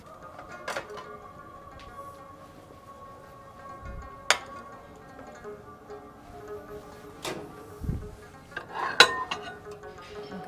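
A lasagna pan taken out of the oven, with scattered metallic clinks and knocks of the dish and oven rack, several sharp taps spread across a quiet kitchen background.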